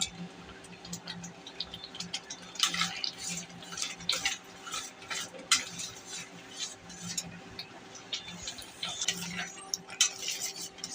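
A spoon stirs raw mango sweet chutney in a pan, making irregular light scrapes and clinks against the metal that come close and fairly soft, with no talking.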